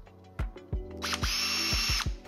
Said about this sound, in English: drilling a hole right through your AirTag